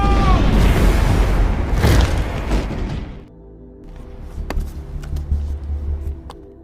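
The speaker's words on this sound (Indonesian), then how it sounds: "markas tersebut telah dipasang bom waktu" A time bomb explodes in a loud, rumbling roar for about three seconds, then drops away into quieter debris crackles and scattered sharp pops.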